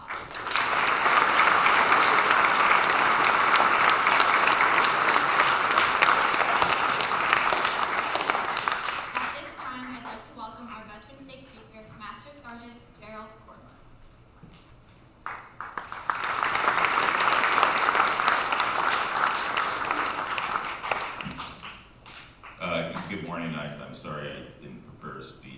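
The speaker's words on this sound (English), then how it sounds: "Let's give those graduates serving in the armed forces a round of applause." An audience at a school Veterans Day concert breaks into sustained applause for two long bursts of clapping, with someone speaking between and after them over the room.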